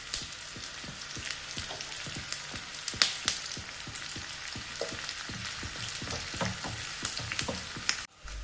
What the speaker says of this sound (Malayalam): കുറച്ച് കറിവേപ്പിലയും ചേർക്കാം.